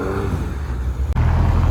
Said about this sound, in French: Regardez la petite Ferrari 400.